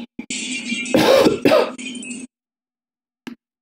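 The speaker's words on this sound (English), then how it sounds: "Cough, cough." Stylized coughing effect in the video game Hatoful Boyfriend, in a dusty room unused for five years: a few harsh, close coughs in quick bursts over about two seconds, then a short faint sound after a pause.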